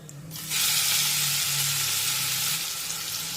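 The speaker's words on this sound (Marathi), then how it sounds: "आणि मिरची तेलामध्ये छानपैकी परतून घेऊया" Curry leaves, asafoetida and green chilli paste hit hot oil and burst into loud, sustained sizzling frying, close up and steady after a quiet start, with no talk.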